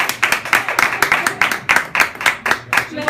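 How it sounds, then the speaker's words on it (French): A small studio audience claps in a steady, close round of hand claps on a French-language TV show, lasting a few seconds with no cheering. "On peut l'applaudir."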